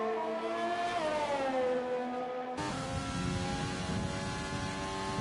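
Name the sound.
McLaren race car engine in a racing video game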